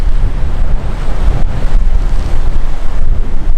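Loud, close wind buffeting the microphone over ocean surf at a rocky shore with a rock pool, a continuous rough roar with gusts rising and falling.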